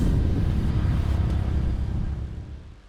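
A 2027 Nissan Z Nismo with a manual gearbox rolls into the pit lane, its engine a steady, loud low rumble that eases off toward the end.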